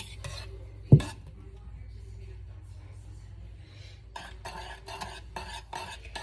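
Foamy sponge cake batter being mixed in a bowl: a quiet stretch with one sharp knock, then a quick series of rhythmic whisking scrapes and clinks against the bowl near the end.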